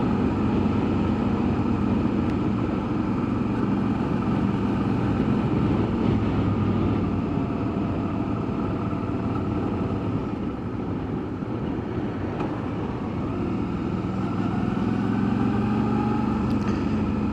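An MG motorcycle cruising on a road in Romania gives a steady, continuous engine drone mixed with wind and road rumble, unbroken and fairly loud throughout with no speech.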